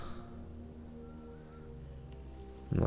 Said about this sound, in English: Nice, it's raining.